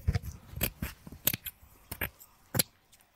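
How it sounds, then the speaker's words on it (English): Scissors cut out a bead embroidery bracelet base with a run of sharp, close snips at an uneven pace, with quiet pauses between cuts. "I will cut out the bracelet."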